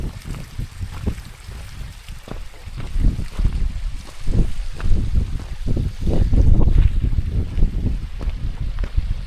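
Crowden Brook, a moorland stream, flows steadily and close by, its broad rushing water mixed with gusts of wind buffeting the microphone, growing slightly louder toward the end.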